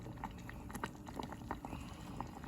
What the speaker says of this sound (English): I can hear it kind of boiling down in there, so it's going to come to a pretty good boil here soon.